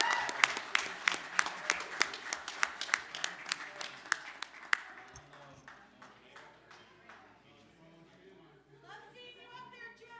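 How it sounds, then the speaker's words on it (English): Applause at a city council meeting for the Oakdale Stampede, sharp individual claps loud at first then thinning out and fading, followed by faint talk. "let's give one more round of applause for the Oakdale Stampede"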